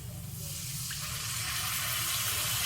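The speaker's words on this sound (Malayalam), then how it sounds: "ഇതിലേക്ക് കുറച്ച് ചൂടുവെള്ളം, തിളപ്പിച്ച വെള്ളം ഒഴിച്ചു കൊടുക്കാം." Boiled hot water pours steadily into a pan of spiced masala for a fish curry, a continuous rushing splash that fills the whole clip with no talking.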